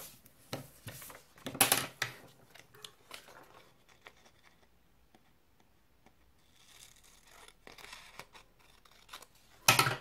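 Scissors cutting paper shapes for a geometry area lesson, heard as a few short crisp snips and paper rustles, close but quiet, separated by near silence.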